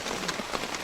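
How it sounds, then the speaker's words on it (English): Heavy rain at a wild campsite in Scotland, a steady faint hiss of drops pattering on surfaces with no voices. "So, we're in the rain."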